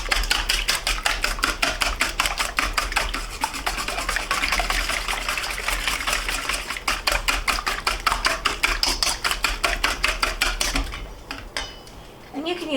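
Eggs being whisked in a bowl for a low-carb breakfast bake give a fast, steady metallic clatter of whisk against the dish, close and continuous before stopping abruptly near the end.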